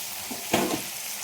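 Carrots, French beans and potatoes, cut into small pieces, fry in a pan with a brief burst of sizzling and stirring near the middle, set against a low steady hiss.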